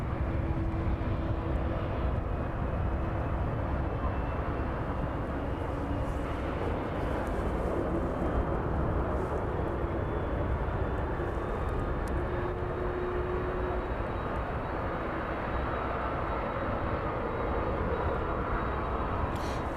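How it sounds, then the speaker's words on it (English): An ATR turboprop airliner taxis along runway 27 at an airport, a steady broad engine roar droning continuously at a distance with a faint high whine, with no talking. "So pan around that ATR, making its way down runway 27 now."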